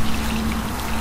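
Water pours steadily and loudly into a drainage system, making a continuous rushing, splashing stream with no breaks and no voices.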